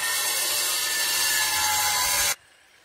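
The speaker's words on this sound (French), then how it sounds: "Alors lui, il vient tout niquer avec sa petite circulaire là." A small circular saw cutting nearby on a rural stretch of the Compostela way near Figeac, a steady loud broadband whine that runs continuously for over two seconds and then stops abruptly, leaving quiet outdoor ambience.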